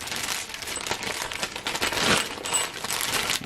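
Metal bolts clink and rattle softly as they are sorted and handled up close, with small scattered jingles and one brighter clatter in the middle.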